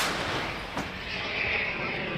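A single heavy blast from an Abrams tank's 120mm cannon booms out, followed by a lingering rumbling roar.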